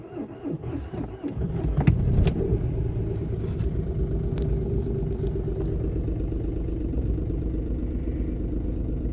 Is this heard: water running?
no